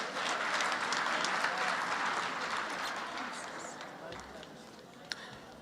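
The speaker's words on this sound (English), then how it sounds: "Let's clap hands for Noluvuyo" An audience at a graduation ceremony claps loudly and steadily, the applause slowly thinning and fading toward the end.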